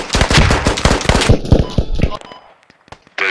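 Close, loud rapid bursts of automatic gunfire from the video game Squad crack in quick succession for about two seconds, then cut off into near quiet before another shot.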